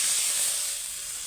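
Water poured into hot fried spice paste in a pan while cooking a shankar (stingray) fish curry gives a steady broadband hiss that fades slightly over about a second.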